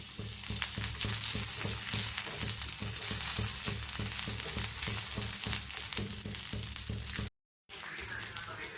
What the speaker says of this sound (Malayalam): നമുക്ക് ഇഞ്ചി ഇട്ട് കൊടുക്കാം